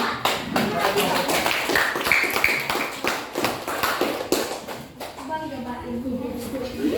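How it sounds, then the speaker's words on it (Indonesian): Classroom applause from students, a scattered run of sharp claps with thuds, loud and close, while voices chatter over it. "Beli tepuk tangan."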